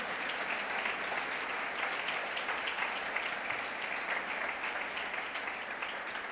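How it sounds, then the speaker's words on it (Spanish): A church congregation claps together in sustained, dense applause that holds at an even level for several seconds, with no talking over it. "Denle un aplauso, por favor."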